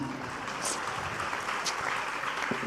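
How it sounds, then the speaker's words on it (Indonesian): Audience applause for a regency head at a high school anniversary event in Gresik, a fairly faint, steady patter of clapping from a seated crowd. "tepuk tangan untuk Pak Bupati"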